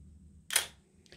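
A single crisp mechanical click from the shutter speed dial of a Pentax K1000 film SLR camera, close and isolated against a quiet room, followed by a faint second tick.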